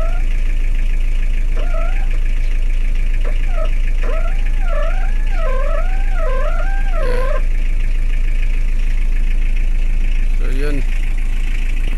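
A car idles with its aircon switched on, the rear unit faulty and weak cooling at the front. A constant low engine hum and blower noise run throughout, with a wavering whine over it and a brief spoken word.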